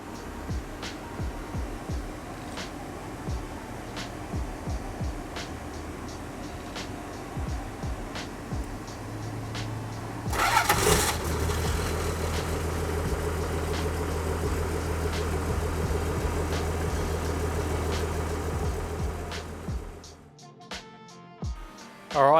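Toyota HJ75 Troopy's 12HT diesel engine cranks and fires at about ten seconds, then settles into a steady, close idle; light clicks and handling noises come before it, and the engine cuts off near the end.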